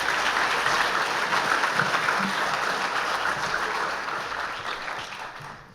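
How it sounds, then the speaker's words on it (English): Audience applause at a school sports awards ceremony, a sustained wash of clapping from a large crowd that holds steady and then begins to fade toward the end. "So a round of applause for Ms. Fenwick."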